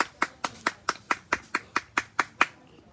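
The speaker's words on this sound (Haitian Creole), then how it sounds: "Bat bravo pour lui, pour pifo." A single pair of hands claps about a dozen times at a steady, even pace, crisp and fairly close in an otherwise quiet space, with no talking.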